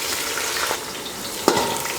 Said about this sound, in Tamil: பட்டை கிராம்பு பொரிஞ்சதுமே பெரிய வெங்காயம் சேர்த்துக்கலாம்.